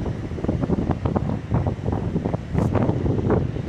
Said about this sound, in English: Sort of windy today.